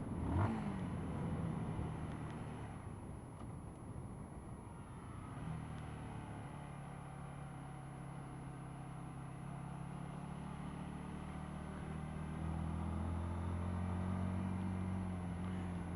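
A motorcycle rides through cold, rainy weather, engine droning steadily with wind and road rush, the pitch rising and falling slightly as it accelerates, heard faintly without talk.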